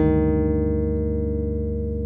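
On a bass guitar, a flat-nine dominant chord rings out as one sustained, clear, close chord that slowly decays, with no speech.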